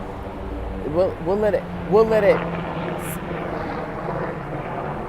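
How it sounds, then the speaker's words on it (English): A helicopter flying overhead makes a steady, distant rotor and engine drone beneath a person talking nearby. "It sounds like a helicopter."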